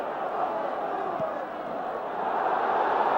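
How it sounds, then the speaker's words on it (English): Large football crowd at White Hart Lane during a Tottenham v Millwall First Division league match, a steady broad roar of thousands of voices murmuring and calling throughout, swelling slightly toward the end. "And a very good crowd in at White Hart Lane."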